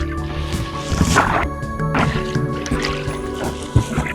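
Water drips and splashes softly from a kayak paddle on a calm lake at Conconully State Park in Washington, with small irregular drops and trickles close by.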